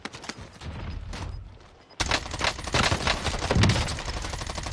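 Bursts of automatic gunfire in the video game Warzone, rapid rattling volleys that stop briefly and then come back louder and denser, close and continuous.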